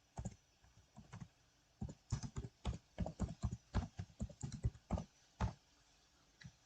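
A message is typed on a computer keyboard in short, uneven bursts of close key clicks separated by brief pauses, quiet and without talking.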